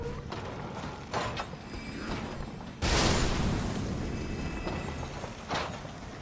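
Spread crossbow firing in Elden Ring, a loud mechanical twang and crack at the midpoint with a sustained burst afterward, amid clicking ratchet-like mechanism sounds and smaller shots before and after.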